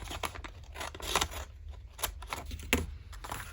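Scissors snipping through paper while folded envelope pockets are made, a series of quiet, close crisp cuts at an uneven pace, alone without talk.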